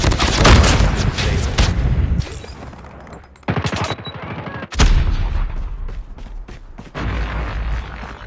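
Gunfire from the Call of Duty Mobile multiplayer game rattles in loud, rapid bursts, with separate shots and volleys starting and stopping over several seconds.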